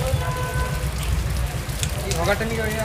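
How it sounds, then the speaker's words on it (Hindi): Light rain patters steadily over a low, droning rumble of traffic, with a voice murmuring faintly in the background. "हल्की हल्की बारिश हो रही है"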